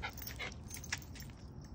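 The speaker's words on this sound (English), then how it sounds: "You're starting to bark at me." A dog gives a few short, soft barks and yips in quick succession, fairly faint against quiet room noise, with no talk.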